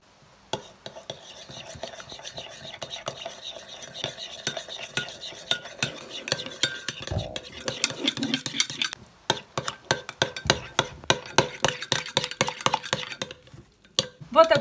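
Garlic mustard sauce whisked in a bowl while oil is poured in slowly, a steady run of close, rapid clinking and scraping strokes that grow sharper and more rhythmic toward the end.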